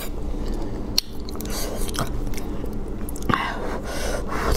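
Close, wet chewing and biting of seafood at a mukbang meal, crunchy bites and smacking mastication running continuously with a sharp bite near the start and another later, no talking.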